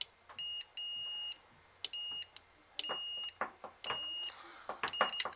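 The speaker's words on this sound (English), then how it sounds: "It beeps sometimes, but not all the time." Short electronic beeps from a faulty push button, some long and steady, others clipped, sounding irregularly among button clicks and handling noise.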